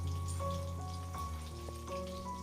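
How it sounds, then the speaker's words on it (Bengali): Bata fish frying in hot oil in a home kitchen, a steady close sizzle and crackle with occasional sharper pops, running continuously throughout. "তেল গরম হয়ে গেছে, এবার একে একে মাছগুলোকে ভেজে নেব।"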